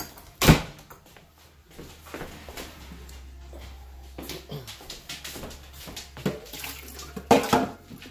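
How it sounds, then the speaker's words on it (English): Tap water runs into a dog's water bowl in a home, a steady splashing stream with scattered clunks and knocks, heard fairly close. "Luna's almost out of water, so I gotta refill her bowl."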